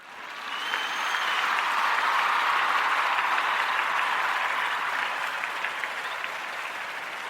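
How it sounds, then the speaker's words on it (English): An audience claps in a sustained round of applause, a dense even patter that swells in quickly and carries steadily at full strength before tapering slightly toward the end, with no voices over it. "That round of applause was actually for me, for myself"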